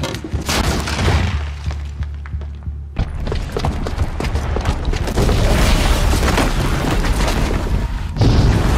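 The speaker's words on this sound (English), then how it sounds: "the booby trap on the bomb downstairs is gonna get set off" A bomb booby trap goes off in the video game Horizon Zero Dawn, with loud booming blasts, rumbling and shattering debris running nearly continuously across the whole stretch, without a pause.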